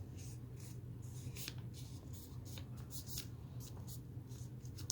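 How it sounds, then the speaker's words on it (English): Paper is folded and creased close up with soft rustles and light scraping strokes, set against a low steady hum. No one speaks. "we're going to take this whole section here and we're going to fold it around behind"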